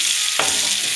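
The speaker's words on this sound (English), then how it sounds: "you just kind of let it continue to saute" Firecracker shrimp sautéing in a hot pan, a continuous loud, close sizzle with a brief stir or scrape partway through, no voices.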